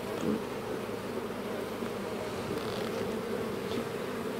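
Dense, steady buzzing of many honeybees around an open nucleus hive holding a small 2021 swarm in an apiary in April, close and continuous with no voices.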